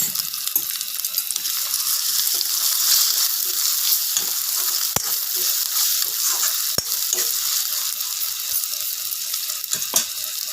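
Finely chopped tomatoes hit a hot frying pan holding pumpkin stalk and potato mustard curry, giving a loud, steady, hissing sizzle throughout with a few clicks of stirring and no talking.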